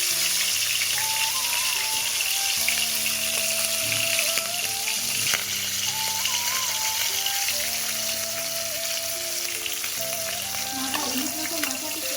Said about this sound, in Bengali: সামান্য হলুদ দিয়ে মাথাটাকে ভেজে নেব।